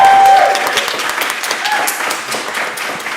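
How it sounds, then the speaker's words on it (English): Applause breaks out from a live audience at a poetry reading event, a dense wash of many hands clapping at once, loud and sustained for the full stretch, with a few voices mixed in. "Round of applause for Daisy"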